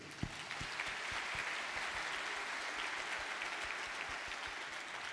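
An audience at a tribute concert marking fifty years in music claps in dense, sustained applause that stays steady and moderately distant throughout.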